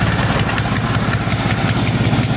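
Small engine on a Canadiana snowblower running on full choke with the throttle on, a close, loud, steady chugging putter with a fast rhythmic pulse.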